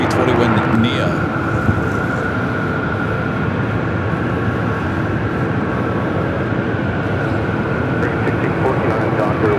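A Hawaiian Airlines Airbus A321neo jet airliner at Los Angeles International Airport, a loud continuous engine roar held steady throughout, with a faint hiss on top.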